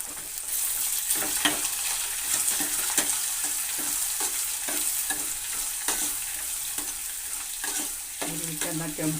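Onion and curry leaves fry in hot oil in a pan, a continuous close sizzle with scraping stirs and clatters from a utensil, ending with a short tonal knock, no one speaking.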